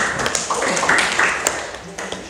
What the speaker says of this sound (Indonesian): tepuk tangan untuk yang tahu